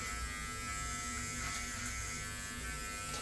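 The foil shaver head of a 6-in-1 hair clipper runs over a cheek with a steady, close electric buzz at a fairly quiet level. It keeps going without a break and there is no voice over it.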